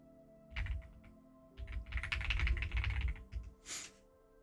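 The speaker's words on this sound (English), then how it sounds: "I keep typing on the wrong computer." Someone types on a computer keyboard at close range: a short tap, a pause, then a dense run of keystrokes and a final quick burst, with nothing else heard.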